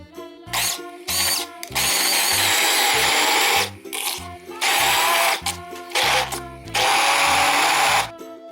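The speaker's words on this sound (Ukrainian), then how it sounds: "Гарбузову м'якоть змелю блендером." A handheld blender whirs loudly in repeated bursts grinding pumpkin pulp, starting and stopping several times with short pauses and occasional low knocks between runs.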